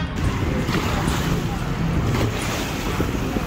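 Sea at a beach near a city, a steady broadband wash of waves and surf with wind buffeting the microphone, continuous and fairly loud throughout.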